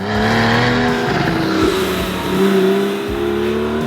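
Porsche 911 Targa with a 3.8-liter flat-six pulling away, engine revving hard and accelerating through a steady rising drone, close and loud with no talk.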